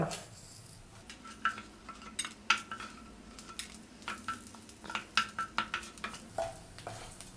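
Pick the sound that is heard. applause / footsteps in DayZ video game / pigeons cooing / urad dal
urad dal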